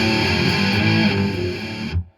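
A distorted electric guitar rings out a sustained chord with a regular fifth, gritty and fuzzy in tone, fading briefly before cutting off abruptly.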